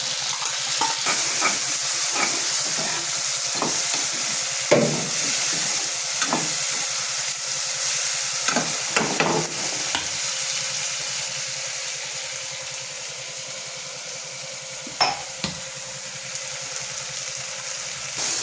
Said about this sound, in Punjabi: ਪਿਆਜ਼ ਭੁੱਜ ਗਏ ਇਸ ਤੇ ਆਪਾਂ ਇਹ ਪਾਉਣੇ ਟਮਾਟਰ ਦੇ